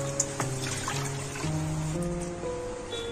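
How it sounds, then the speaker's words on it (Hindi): Water pours from a glass into a pot of rice for steaming chicken mandi, a continuous trickling splash with several successive pours of changing pitch, close and alone. "6-7 गिलास पानी डालना है इसको।"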